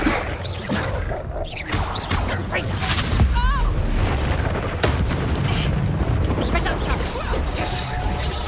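A Confringo blasting spell erupts in Hogwarts Legacy with a loud boom amid a wizard duel, surrounded by whooshes, crashes and magical effects, with voices talking over the fight.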